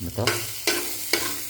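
Leftover rice from the night before stirred in a pan that is not yet very hot: three distinct scraping strokes of a spoon, close and fairly loud, with a single word spoken briefly at the start.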